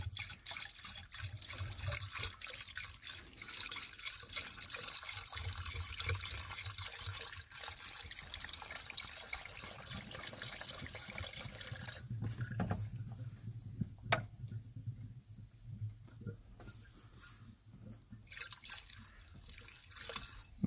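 Pre-diluted coolant is poured into a Camco Kuuma water heater, a faint trickling and dripping of liquid that comes and goes over a low background hum, with no talk.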